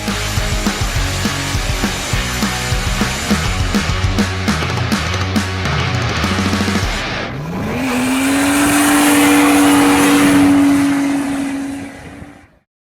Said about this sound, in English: we're taking this freshly built SR20, putting it into the Silvia, and taking it for a test drive